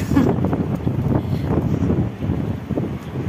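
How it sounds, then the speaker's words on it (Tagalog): Gusty wind buffets the microphone outdoors with a low, rumbling roar that rises and falls; no clear voices. "Mahangin ngayon na."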